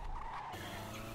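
Car tires skid and squeal in GTA San Andreas multiplayer as the driver struggles to control the car, a short loud screech over a rumbling engine.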